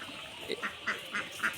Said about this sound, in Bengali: হাঁস মুরগগুলো চলে আসছে তাদের খাবার খাওয়ার জন্য